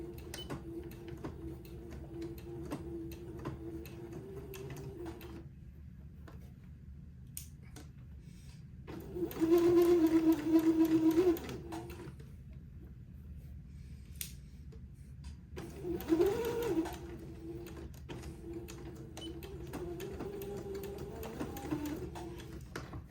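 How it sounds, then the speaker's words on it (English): A sewing machine runs a straight stitch to join fabric to a bonnet piece for a baby garment, with two short bursts of steady mechanical whirring amid quiet room noise. "now just with a straight stitch, I'm going to sew this entree to the bonnet piece"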